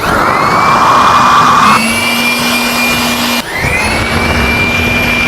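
A hair dryer runs loud and steady with an airy whine. It shifts setting partway through and dips briefly before carrying on, with no voices.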